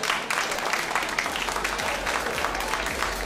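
Crowd applause at a 3lb robot combat event, a steady dense wash of clapping from a large audience that carries through the whole moment without talk.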